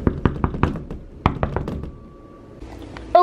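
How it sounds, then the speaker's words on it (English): A house front door is rapped in a quick series of sharp knocks, then a short pause before a few more taps, recorded up close. "I'm on the front door and I'm gonna knock"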